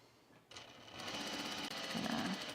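A sewing machine stitches a Donny shirt through thicker fabric with a special presser foot, starting after a short pause and then running in a steady rapid mechanical chatter, close and fairly quiet.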